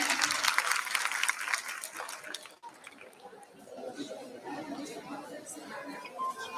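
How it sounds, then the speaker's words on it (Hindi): Applause at a school education department arts event in Gwalior, loud crowd clapping that cuts off abruptly, followed by quieter murmuring chatter from the audience. "इसके लिए जोरदार तालियां हो जाएं।"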